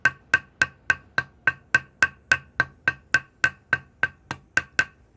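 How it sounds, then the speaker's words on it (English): A hammer strikes metal fittings on a Chinese bow quiver, riveting them with about eighteen sharp, evenly spaced taps at a steady quick rhythm, close and clear with no talk. "note the hammer is"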